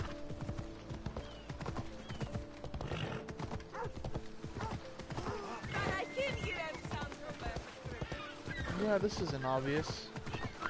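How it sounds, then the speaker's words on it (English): Steady clip-clop of horse hooves on a hard surface in Assassin's Creed Odyssey, riding into a port, with a brief whinny, while someone talks over it. "Man riding into a port with a horse."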